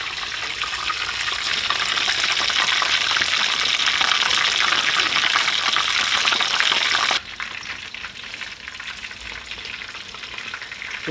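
Beer-battered schnitzel frying in a pan of hot oil, a loud, dense, continuous crackling sizzle that drops abruptly to a quieter, steadier bubble partway through, no voices.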